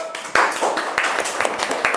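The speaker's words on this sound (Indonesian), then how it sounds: "tepuk tangan buat kelompok 1" Classroom students clap for a group after its presentation, a short burst of brisk, uneven hand claps close by, with voices mixed in.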